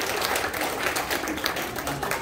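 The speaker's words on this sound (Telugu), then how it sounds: "మీ చప్పట్లు చప్పగా వేయండి." An audience at a community stage event applauds steadily, a dense wash of many hands clapping without pause, loud and close throughout.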